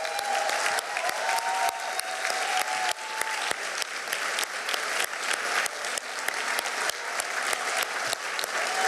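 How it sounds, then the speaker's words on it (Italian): Sustained applause at a Venice event, a dense, continuous patter of many hands clapping at steady volume, with faint voices and a sustained tone briefly audible underneath. "Continuate nell'applauso perché disobbedisce"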